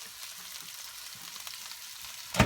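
Steak frying in a pan for a demi-glace dish, a soft continuous sizzle with faint crackles, ending in a brief louder hiss burst.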